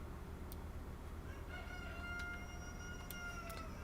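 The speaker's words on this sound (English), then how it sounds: "As a rooster caws in the background" A rooster crows faintly in the distance, a couple of thin drawn-out calls rising over a steady low background hum.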